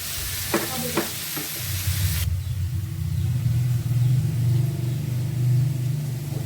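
Bitter gourd and radish frying in a pan, with a few scraping stirs early on, then a steady low sizzle carrying on alone at moderate loudness.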